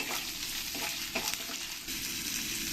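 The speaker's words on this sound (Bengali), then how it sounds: "এবার আমি এখানে কিছু ভাজা ছোলার ডাল নিয়েছি এগুলো দিয়ে দেবো দিয়ে একসঙ্গে আমি ভেজে নেবো" Roasted chana dal with green chillies frying in a hot pan, a steady close sizzle with brief stirring scrapes breaking through, no voices.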